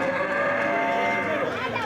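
A cow tied up outside a police station moos in one long, drawn-out call that stays clear and near for nearly two seconds, with faint background bustle underneath.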